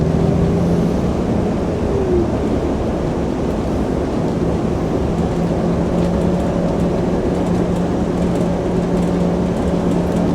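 A Turismo coach engine pulls steadily on a run from Westbury to Broughton Gifford, lagging before the gearbox finds a gear. A constant loud, low rumble of engine and road noise runs throughout, with no voices.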